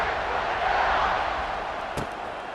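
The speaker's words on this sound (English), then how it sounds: "this crowd is buzzing after that last score" A stadium crowd at a Rutgers vs Ohio State football game keeps up a broad, steady roar after a score, with one brief sharper burst near the end.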